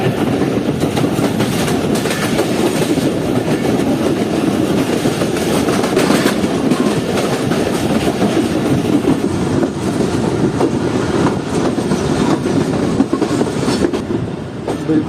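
The Karakoram Express runs on its rails with a loud, continuous rumble and a rapid clickety-clack of wheels over track joints, steady for the full stretch with no voices.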